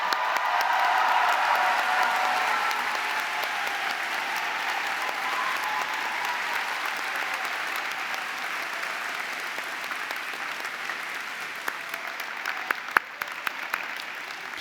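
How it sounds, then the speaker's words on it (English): A large university graduation audience applauding staff at a London College of Communication ceremony, sustained dense clapping that slowly thins toward the end, with a few louder individual claps. "I'm sure you would like to join me in giving them a warm round of applause"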